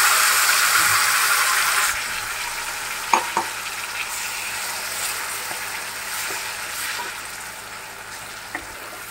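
Thick paste frying in melted butter in a pan while making a paneer dish, hissing loudly at first and then settling into a steady gentle sizzle with occasional clicks of stirring.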